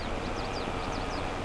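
A train in Farming Simulator 22 rumbles past close by. It makes a steady, even roar with faint squealing tones above it and no pauses.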